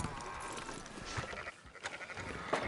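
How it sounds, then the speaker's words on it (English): Sheep bleat in a video game, a few short, wavering calls rising over a constant noisy bed of in-game sound, moderately loud and close. "Fine sheep."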